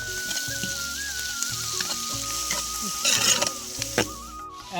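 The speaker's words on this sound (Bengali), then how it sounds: "তেল গরম হয়ে গিয়েছে, আমরা এখন বিনস, ক্যাপসিকাম এবং পেঁয়াজগুলা ঢেলে দেব। ক্যাপসিকাম এখন আমরা ভালো করে এটাকে নেড়ে নেব।" Beans, capsicum and onions sizzle in hot oil while being stirred, giving a steady close frying hiss broken by scraping stirring strokes.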